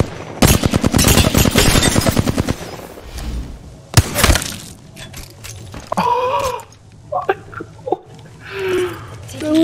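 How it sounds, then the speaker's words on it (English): Gunfire in Apex Legends, including a Wingman pistol headshot, rings out as dense rapid shots early on and a sharp loud crack near the middle, followed by scattered game effects while players talk. "That was the best wingman shot ever."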